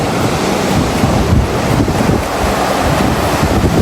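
Steady, loud rushing water at Lepreau Falls, a waterfall in New Brunswick, heard from above as a dense unbroken roar with some wind buffeting the microphone.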